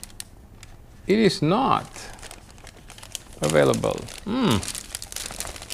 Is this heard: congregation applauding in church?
no